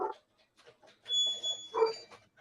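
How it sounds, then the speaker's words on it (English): A dog barks and whimpers in a few short, faint yips and whines, heard at a distance in an otherwise quiet room. "Oh, I can hear the dog now."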